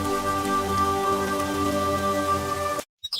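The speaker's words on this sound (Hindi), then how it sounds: "बारिश की बूंदें उनके चेहरों पर गिर रही थी" Steady rain pattering down on a surface, a dense, even patter of raindrops with no pauses until it cuts off abruptly near the end, leaving a short stretch of near silence.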